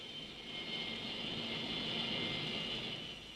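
A jet aircraft sits on an aircraft carrier catapult with its engine running, giving a steady whining roar that swells slightly and then holds, with no voices over it.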